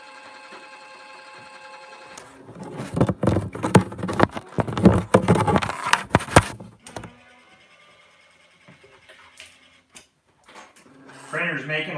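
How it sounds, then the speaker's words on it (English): A DTG (direct-to-garment) shirt printer runs with a burst of rapid mechanical clattering and knocking, loud for a few seconds before settling to quieter whirring and scattered clicks. "Printer's making a lot of commotion"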